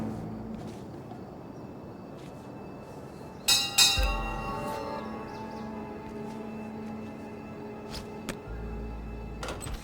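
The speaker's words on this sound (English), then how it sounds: "now that the dinner bell has been rung" In the Hitman (2016) video game, a dinner bell rings out partway through a quiet kitchen ambience. A sharp metallic strike and shimmering ring are followed by a second clang and faint clunks, with no talking.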